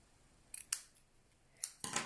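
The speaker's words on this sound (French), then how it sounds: "Alors, je vais le couper en deux." Scissors cut a paper card in half, a few quick separate snips close by in a quiet room, with no talking.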